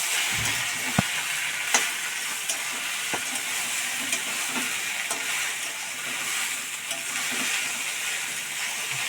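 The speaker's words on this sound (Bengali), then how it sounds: "হালকা জল দিয়ে আদা রসুনটা একটু ভাজা হলো" Ginger garlic paste frying with a little water in a pan gives a steady, close sizzle and hiss, broken by sharp scraping clicks from stirring, with no talking.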